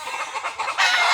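A rooster gives a brief, close crow that swells louder toward the end, with clucking fowl in the background and no talking.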